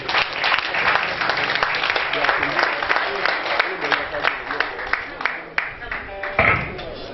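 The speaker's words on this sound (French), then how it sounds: "Est-ce que vous pouvez applaudir, s'il vous plaît?" Sustained audience applause rings out at an awards ceremony, dense rhythmic clapping mixed with crowd noise and some voices, continuing strongly for several seconds before a brief swell near the end.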